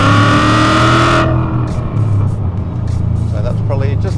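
A 2016 Mustang GT Hennessy HPE 700 revs hard while accelerating onto a highway, its loud engine roar with rising gear notes cutting off abruptly, followed by lower cabin rumble and road noise.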